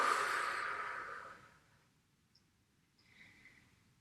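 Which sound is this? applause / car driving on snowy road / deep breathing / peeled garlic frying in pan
deep breathing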